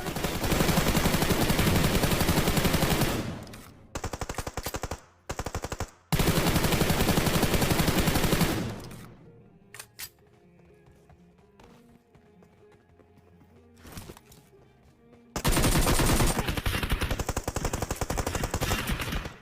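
Gunfire in the online shooter Battlegrounds, with long bursts of rapid automatic fire, a quieter stretch of scattered shots and movement, then another sustained loud burst.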